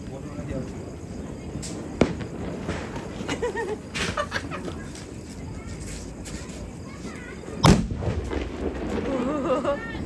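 During a festival, firecrackers and fireworks burst at a distance, with a couple of sharp cracks standing out over scattered softer pops while people talk nearby.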